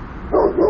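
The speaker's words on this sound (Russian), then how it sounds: "Видите, собака бегает." A dog in a city-centre courtyard in Perm gives a couple of quick close barks, short yelping bursts over a low background.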